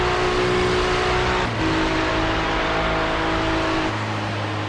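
A Porsche race car in the iRacing sim, racing the Daytona 24 Hour, drones loudly and steadily at close range, its engine note shifting pitch midway as other cars run nearby.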